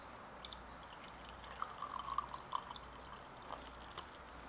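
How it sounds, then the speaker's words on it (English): Water pours from a Starbucks cup into a glass cup, a light, steady trickle with small splashy drips rising briefly in the middle, close and fairly quiet. "I'm gonna pour a little bit of this water into this glass cup."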